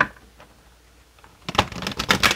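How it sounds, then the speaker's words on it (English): A deck of tarot cards is shuffled at close range, a quiet rustle at first and then a loud, dense riffling burst of rapid card flutters over the last second, with no talking. "I'm going to shuffle the deck."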